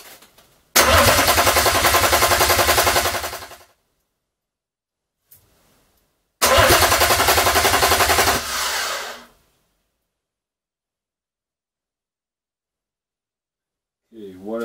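A BMW M57 diesel engine on an engine stand cranks loudly in two separate bursts of about three seconds each, with quiet gaps between them.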